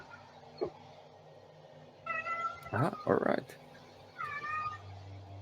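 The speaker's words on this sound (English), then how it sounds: "I wonder if you can hear my cat in the background." A house cat meows in the background during a casual game-developer chat: two short, tonal meows, one mid-clip and one near the end. Someone speaks briefly over a steady low hum.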